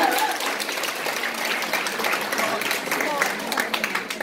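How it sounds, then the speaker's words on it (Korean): An audience applauds after an energetic lecture, a steady wash of clapping that fills the room and holds evenly throughout, with voices faintly audible beneath it. "다시 한번 열정적인 강의를 해주신 김미경 강사님께 큰 박수 부탁드리겠습니다"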